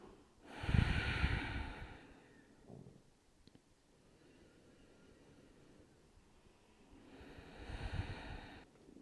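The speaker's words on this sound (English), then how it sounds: "we'll take 2 more breaths here" Slow, deep breaths taken while holding a relaxed hip-opening yoga pose, a strong noisy exhale near the start and another toward the end, with quiet stillness between.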